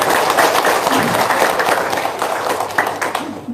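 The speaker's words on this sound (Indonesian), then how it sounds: "Tepuk tangan dulu dong." Indoor audience clapping throughout a motivational seminar, dense and loud, a continuous wash of many hands that thins slightly near the end.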